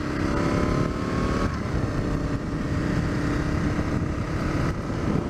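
A first-generation Aprilia RSV 1000 Tuono naked motorcycle engine drones loudly and steadily while riding, with a constant broad roar and no pauses.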